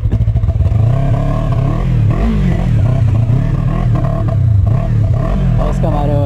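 Sport motorcycles rev their engines at a motor event, a loud close growl that rises and falls in repeated throttle blips over a constant crowd din.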